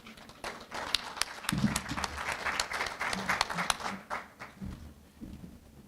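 Lecture audience breaks into warm applause for a professor at an annual memorial lecture, dense steady clapping swelling and filling the room for several seconds.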